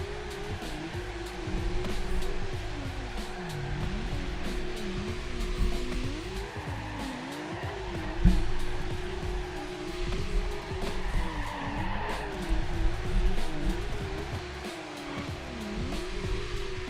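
A drifting car nearby, engine droning steadily with wavering pitch as tires squeal and skid, continuous and fairly loud over the full stretch, with a brief louder bump midway.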